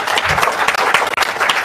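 A crowd bursts into brief, loud applause at a business seminar in Faridabad, dense clapping that flickers slightly before settling.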